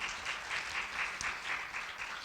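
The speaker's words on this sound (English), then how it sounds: "Yes, I'll take more applause." Applause from an audience at a poetry event, a steady wash of many hands clapping at moderate level throughout, with no voices standing out.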